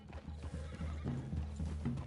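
Horses in the video game Red Dead Redemption 2, close hoof clip-clops with a whinny, faint and brief, without speech.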